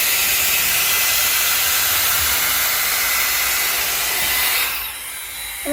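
Dyson AirStrait hair straightener running in wet mode, a steady loud breathy rush of blowing air that holds for about five seconds before dropping off to a softer hiss near the end.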